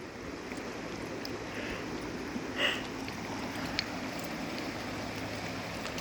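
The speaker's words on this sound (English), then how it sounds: "I love the sound of the river." A river flows steadily nearby in the morning outdoors, a soft continuous broadband rush with no pauses, with a couple of faint brief bird chirps above it.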